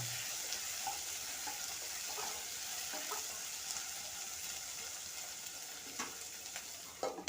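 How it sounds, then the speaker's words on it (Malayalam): Tomato and green chillies frying in a pan for a chicken sausage curry, giving a steady broad sizzle with occasional stirring scrapes and a few louder clinks near the end. "അപ്പോൾ നമ്മൾ ഇതിലേക്ക് തക്കാളിയും പച്ചമുളകും ഇട്ട് കൊടുത്തിട്ടുണ്ട് കേട്ടോ"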